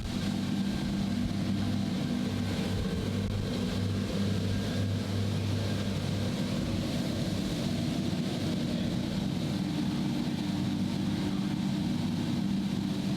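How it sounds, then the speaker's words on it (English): A dual-engine Axopar boat races alongside on the water. Its engines make a continuous low drone with a steady hum, heard at moderate distance under wind and water noise. "This is a dual engine Axopar trying to compete."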